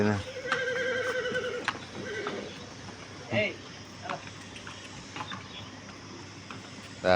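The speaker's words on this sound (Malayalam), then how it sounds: "കുതിരക്കൊരു ആശങ്ക, പോണോ പോണ്ടോ എന്നുള്ളൊരു ചിന്തയിലുള്ള കുതിര" A horse neighs with a wavering whinny in the opening seconds, followed by quieter snorting and background noise while people talk nearby.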